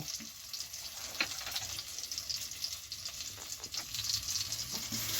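Green chili, Kashmiri chili and spices for a gravy frying in a pan: a dense, hissing sizzle held steady throughout, with occasional soft ticks from stirring, close and fairly loud.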